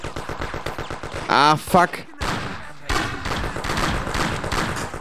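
Repeated gunfire crackles through a firefight in the video game Mafia, rapid shots in dense bursts that are loud and close, with a man swearing briefly partway through.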